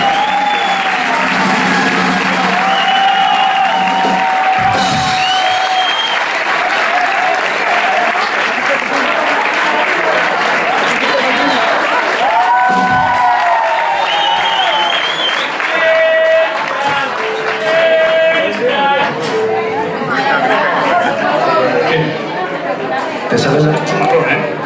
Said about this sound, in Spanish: Fuerte aplauso para el gran Cristian Álvarez.